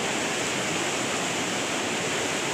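Steady broadband wash of heavy surf from large storm waves on the Coquimbo coast of Chile, a continuous loud roar with no distinct breaks and no voices.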